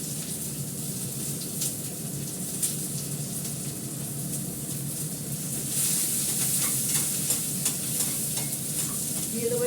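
Onion frying in a little oil in a pan, a steady close crackling sizzle that grows louder and brighter halfway through as the pan heats, with no talking.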